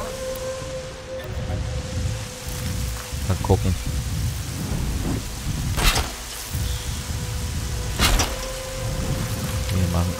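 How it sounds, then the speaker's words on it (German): Rain falls steadily in the video game Horizon Zero Dawn, a continuous hiss with occasional sharp cracks and rumbles of thunder, while someone talks briefly over it. "Noch mehr Regen. Meine Stiefel werden ganz nass."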